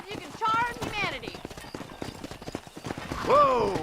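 Horse hooves clip-clop rapidly in the video game Red Dead Redemption, mixed with sharp neighs and whinnies and characters talking over the action.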